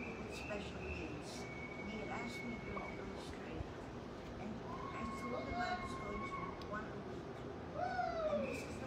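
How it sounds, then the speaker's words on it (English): Birds call in a backyard, giving clear whistled notes and short chirps at moderate distance over a steady wash of outdoor background noise, with faint voices now and then. "We're in the backyard, and there are birds making noise."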